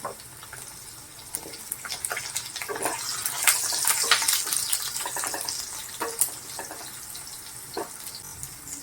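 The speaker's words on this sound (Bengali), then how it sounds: "প্রথমে আলুটা দিয়ে দেবো আলুগুলো দেওয়ার পর একটু ভাজা ভাজা হয়ে গেলে ফুলকপি দিয়ে দেবো" Potatoes frying in oil in a pan for a winter potato, bean and eggplant curry give off a steady close crackling sizzle with scattered sharp pops, building slightly midway, with no voices.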